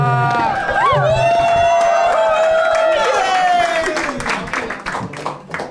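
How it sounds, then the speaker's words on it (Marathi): A live audience at a Mumbai stage show cheers loudly with a long whoop, then breaks into dense clapping that slowly thins out, with shouts and voices mixed through the crowd. "एकदा पुढच्या ॲक्टसाठी जोरदार टाळ्या फॉर सोहम जाधव गाईज."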